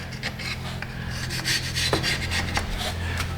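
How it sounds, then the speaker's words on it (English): A carbide scraper rasps gasket gunk off the engine head of a Chevy Cruze, in close, repeated gritty strokes with scratchy bursts and a low hum of background noise behind them. "So I scrape the gunk off there"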